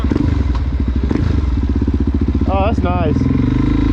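Suzuki DRZ motorcycle fitted with a new full exhaust rolls past, its engine giving a steady, loud, throaty drone throughout while a person speaks briefly over it.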